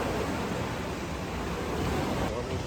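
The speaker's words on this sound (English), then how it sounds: "Oh my gosh, it sounds just like the ocean." Waves rolling through the wave pool at Blizzard Beach water park, a broad steady wash of surf-like noise close by.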